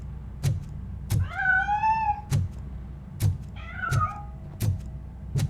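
Two drawn-out cat meows in the video game RoboCop: Rogue City sound among sharp, evenly spaced clicks and a low background hum.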